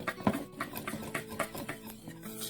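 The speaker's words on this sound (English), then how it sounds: "I don't sift my flour, but I do whisk it to put some air in it" Flour being whisked in a bowl for two-ingredient biscuits, producing a quiet rhythmic tapping and scraping of the whisk against the bowl.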